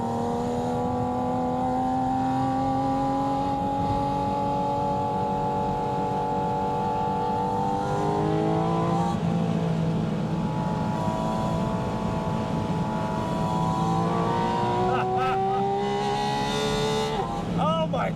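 A Porsche 718 Spyder RS flat-six engine revs steadily toward its 9,000 RPM redline, its pitch climbing and dipping as it works through gears, loud and continuous with a sharp rasp near the end.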